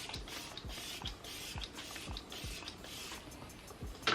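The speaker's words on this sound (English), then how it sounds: "I'm gonna go ahead and spray my face with my Morphe spray." Morphe setting spray misted onto a face in a quick series of about eight short, evenly spaced hissing pumps, each with a soft click, heard up close.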